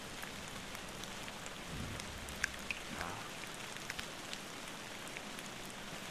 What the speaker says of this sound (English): It's starting. The storm is picking up.